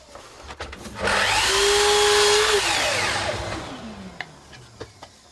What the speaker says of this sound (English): we're going to rip a strip off this about 30mm